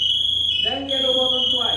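The manual alarm on an SCBA unit sounds after its red button is pressed, giving a steady, piercing high electronic tone that briefly dips and then resumes, while a person talks over it.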